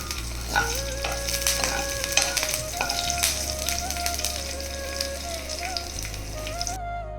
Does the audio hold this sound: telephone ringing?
no